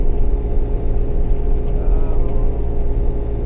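A Bobcat Toolcat engine runs at about 1600 RPM while an 86-inch plow pushes through a snow drift, a steady, close low rumble with no pauses.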